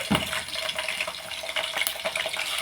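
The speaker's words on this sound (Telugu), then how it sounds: "ఇదిగోండి ఆయిల్ హీట్ ఎక్కింది మనం పచ్చిమిర్చి వేసుకుంటాం దీంట్లోకి" Green chilies dropped into hot oil for a fish curry, crackling and sizzling loudly and continuously up close in a brief burst.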